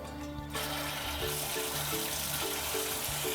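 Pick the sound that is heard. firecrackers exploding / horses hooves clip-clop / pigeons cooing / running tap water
running tap water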